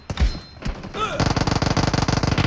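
Rapid automatic gunfire rattles in a team deathmatch video game match on the Santorini map, a loud sustained burst of evenly spaced shots that begins after a couple of softer thuds and a brief voice.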